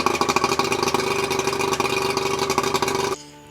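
An outboard boat motor on a Tracker Pro Team 18 boat idles steadily at about 750 RPM with a rhythmic, chugging putter, fairly loud and close, then cuts off abruptly near the end.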